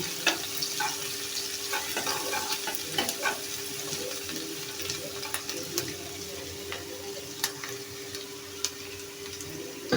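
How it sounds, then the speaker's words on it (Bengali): Chopped onions sizzle steadily in hot oil while a utensil stirs, scraping and tapping the pan in irregular knocks, close up. "পেঁয়াজ কুচিগুলি একটু নেড়ে ছেড়ে ভেজে নিচ্ছি"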